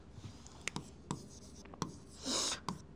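A math solution being written by hand, with pen strokes tapping and scratching on paper in short separate bursts and one longer scribbled stroke near the end, close and quiet with no talk.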